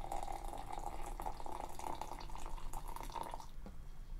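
Hot water poured for a drink, a steady close pour for about three and a half seconds that then stops, leaving a quiet room.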